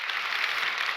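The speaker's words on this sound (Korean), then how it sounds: "우리 좋으신 하나님께 다시 한번 박수로 감사하겠습니다." Church congregation applauding, a steady wash of many hands clapping together, fairly even and moderately loud throughout.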